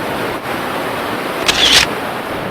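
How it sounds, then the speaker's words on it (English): A camera shutter firing once for a photo of moving water at a fast shutter speed of about 1/100 second, a brief faint click over steady outdoor water and wind noise. "And I'll be taking the picture now."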